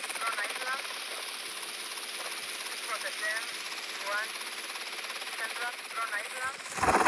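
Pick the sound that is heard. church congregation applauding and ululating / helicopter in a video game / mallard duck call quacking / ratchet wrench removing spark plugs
helicopter in a video game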